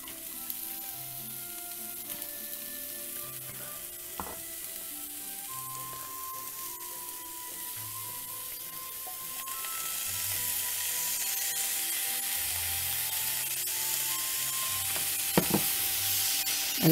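Cabbage fries with grated coconut and onion for a thoran, first as a quiet crackle with scattered scraping and knocks, then as a fuller sizzle that rises as it goes on, with no voices.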